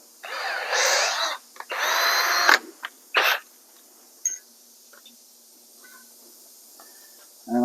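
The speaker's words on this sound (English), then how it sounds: "Just drill a hole" Power drill boring a hole in an MGB engine part during an engine teardown, two or three whirring bursts close by, each a second or so long, with pauses and small clinks of tools between them.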